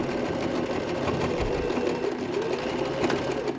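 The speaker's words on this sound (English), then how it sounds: "you can just go and sew neatly all of the fabric" A sewing machine stitches the quilted fabric layers of a toiletry bag together, running at a steady, continuous pace close up with no pauses.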